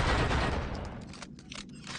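A loud, continuous burst of video game gunfire rattles at first, then thins into scattered shots and crackles near the end.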